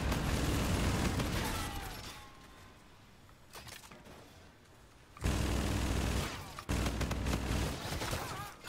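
The Claw, a spread-firing weapon in Call of Duty: Infinite Warfare, firing in loud bursts of rapid gunfire, with a bursty opening, a quieter gap in the middle, then renewed heavy firing near the end.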